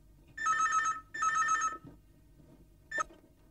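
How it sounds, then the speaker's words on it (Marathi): A home telephone rings with an old-style electronic bell: two long, loud trilling rings separated by a short gap, then a brief cut-off burst, heard alone in a quiet room. "घरी आले आले फोन सुरू"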